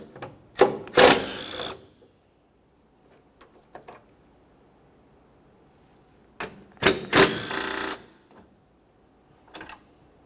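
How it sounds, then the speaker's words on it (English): Ratcheting on 10mm-headed bolts on a 2005-2010 Chevrolet Cobalt, two separate bursts of quick mechanical clicking, close and fairly quiet, with faint small taps in the pauses. "we're going to move along to removing a couple 10mm headed bolts"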